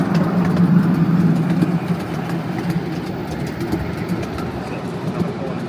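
Riley's Miniature Railway at Isfield train station: a small train rumbles along the track close by, a steady low engine drone with faint rattling that eases slightly after the first two seconds.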